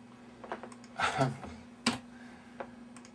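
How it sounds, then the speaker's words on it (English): Soft, sparse keyboard typing indoors, a few scattered key clicks and taps over a steady low hum, with faint speech in the room. "what have you been typing?"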